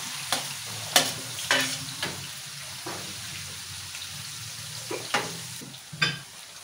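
Potato and garlic cloves fry in a pan, with a steady sizzle broken by several sharp scraping stirs of a utensil, close and fairly loud, and no talking.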